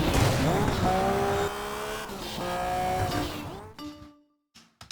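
An Audi S1 rally car in the racing game Sega Rally Revo, its engine revving and rising in pitch through gear changes, with tires squealing as it skids, then cutting off abruptly into near silence with a few brief clicks.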